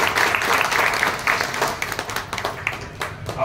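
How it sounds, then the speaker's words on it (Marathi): Audience applause at an indoor stage event as an actress is invited up for an interview, steady dense clapping filling the room for a few seconds and tapering slightly toward the end. "आपण जोरदार पुन्हा एकदा टाळ्या वाजवूया"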